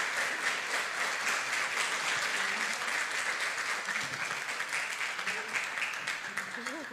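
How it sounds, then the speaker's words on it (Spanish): Audience applause following a talk on front-end coding practices, a continuous dense clapping at moderate distance with a few voices faintly mixed in. "Un muy fuerte aplauso para Lely de nuevo."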